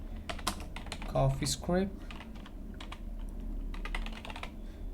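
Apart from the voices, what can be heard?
typing a command on a computer keyboard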